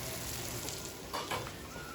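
Garlic frying in a pan alongside a prime New York steak, a steady close sizzle with a couple of faint clinks from stirring, no talking.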